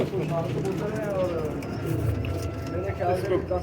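Pigeons coo in soft, repeated throaty calls nearby, with someone talking over them at the same time.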